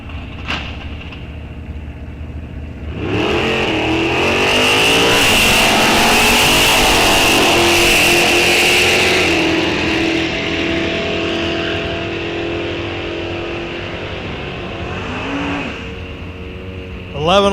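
A Buick and a Dodge race car launch side by side on a drag strip at Rock Falls Raceway, engines swelling into a loud sustained roar for several seconds before fading into the distance, with no voices.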